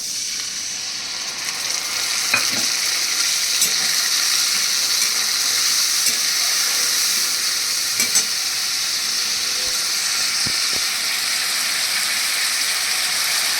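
Ginger-cumin paste with turmeric and salt sizzles steadily in hot oil for vegetarian chana dal, a continuous close frying hiss with a few faint clinks.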